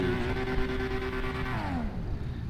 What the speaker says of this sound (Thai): ต่อไปก็จะเป็นนิสสาน R34 นะครับ เป็นพอวอลเกอร์ฟังเสียงครับ